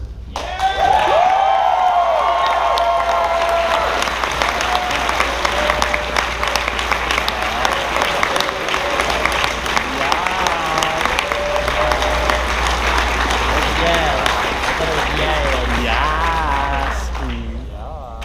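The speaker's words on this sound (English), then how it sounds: "Big round of applause for Brazil Fur Fest" A large audience at a furry convention's closing ceremony claps loudly and continuously for Brazil Fur Fest, a thick wash of applause holding for many seconds before fading out at the end.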